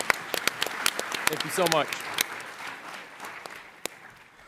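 Audience applause at a TechCrunch Disrupt Startup Battlefield pitch session: a steady wash of clapping with sharp individual claps throughout, fading toward the end, while someone briefly speaks thanks over it.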